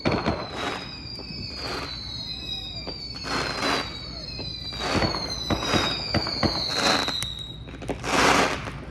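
Fireworks bursting outdoors on the Fourth of July, a string of loud booms and crackles over about nine seconds, several with whistling rising tones and a big burst near the end.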